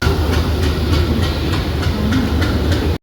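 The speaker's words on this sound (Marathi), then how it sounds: "आली बाबा ट्रेन" Train pulling into a station with a steady heavy rolling rumble and regular clickety-clack beats from the wheels, loud and close throughout.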